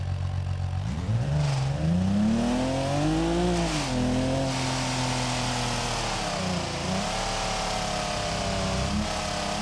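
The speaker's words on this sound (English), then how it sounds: "That damn exhaust, man." A car's exhaust roars and revs in BeamNG.drive, a loud, continuous engine note whose pitch sweeps up and down through repeated throttle blips, with no voices over it.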